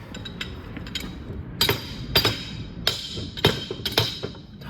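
Sharp metallic clanks on differential parts of a 1959 Ford Fairlane ring out irregularly, about eight improvised hammer strikes with brief ringing tails over a low background rumble.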